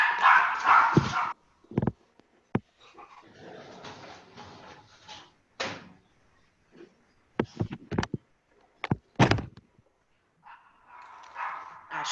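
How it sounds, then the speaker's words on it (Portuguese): A neighbor's dog barks in short, separate bursts, some sharp and loud and others softer, with quiet gaps between them, heard from a moderate distance through a window. "porque o cachorro da vizinha tá latindo"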